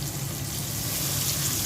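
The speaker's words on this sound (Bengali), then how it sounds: "এখন অল্প করে পানি দিয়ে দিচ্ছি," A little water poured into spice paste of ginger-garlic, coriander, turmeric, chili, cumin and salt frying in a pan gives a steady broadband hiss and sizzle that runs unbroken throughout.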